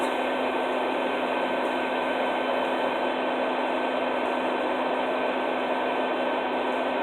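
A vacuum runs beside a bald-faced hornet nest with a steady, loud whirring hiss and a constant hum, unbroken from start to finish with no voices.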